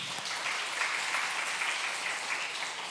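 A congregation at a children's Sunday worship service claps to congratulate a couple on an upcoming wedding, giving a steady, even wash of applause of moderate loudness.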